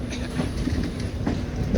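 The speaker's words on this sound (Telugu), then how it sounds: "WAP 7 map 7తో Chennai Egmore Puducherry express." The Chennai Egmore–Puducherry Express, hauled by a WAP 7 electric locomotive, rolls past with a continuous rumble and rhythmic clickety-clack of wheels on rail joints, close and steady.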